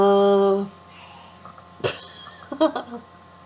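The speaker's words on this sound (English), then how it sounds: "that's my mom sneezing" A single sharp sneeze from a person nearby, followed by a couple of short, quieter bursts, after a steady tone fades out.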